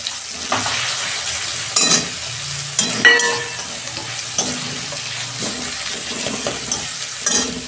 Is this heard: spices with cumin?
yes